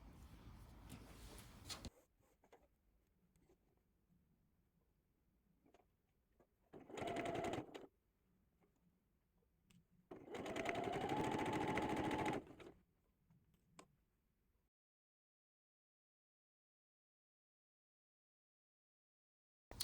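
A sewing machine runs two bursts stitching a quarter-inch seam through a quilt-as-you-go Battenberg block, each burst lasting a couple of seconds with quiet handling noise between and silence after.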